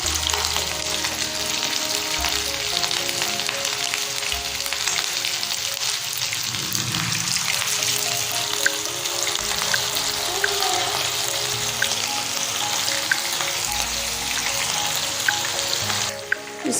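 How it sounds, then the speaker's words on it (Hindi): Beef kofta meatballs fry in hot ghee or oil, a steady, close sizzle with crackling pops that runs throughout, and no talking over it. "कोफ्ते अपने करते हैं फ्राई"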